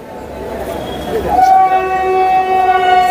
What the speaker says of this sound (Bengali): চলুন, ট্রেন আমাদের ছেড়ে দিয়েছে